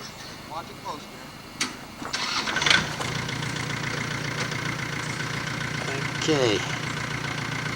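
A tractor engine starting in a hurricane aftermath scene in 1989, cranking and then catching into a steady idle rumble, moderately near, with people talking over it.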